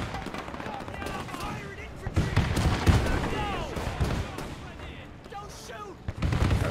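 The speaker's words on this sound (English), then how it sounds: "Let's see if we can get a soldier into the machine gun." Machine-gun and rifle fire rattle in irregular bursts amid booming artillery in a Men of War 2 trench-and-bunker battle, with a voice talking over the din.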